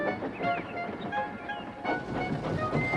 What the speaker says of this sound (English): Douglas steamed by. He was pulling a train of heavy coal cars.